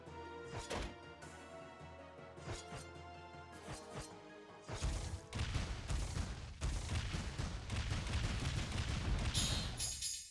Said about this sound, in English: Oh, look at that loot explosion.